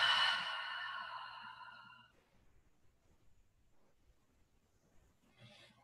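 Slow cleansing exhale in restorative yoga breathing, a soft close breathy sigh that fades over about two seconds into near silence, followed by faint rustling.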